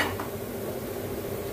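Finely chopped garlic, two or three cloves, sautéing in a pan for a potato fry, a steady low sizzle with faint stirring throughout, near and unbroken, with no talk.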